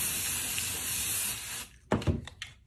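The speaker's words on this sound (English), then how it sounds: "Then we're going to take our 505 adhesive spray. We're going to spray it onto" A can of 505 temporary adhesive spray gives one close, steady hiss lasting about a second and a half, followed by a few soft knocks as the can is handled and set down.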